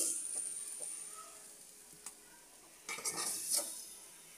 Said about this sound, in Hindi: एक बोल में सजा लेंगे